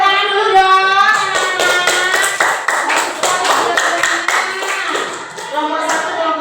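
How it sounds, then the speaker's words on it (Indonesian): Classroom of pupils clapping their hands in a steady rhythm during a lesson, sharp claps ringing out together under overlapping voices chanting or singing along. "Oke, tepuk tangan dulu dong."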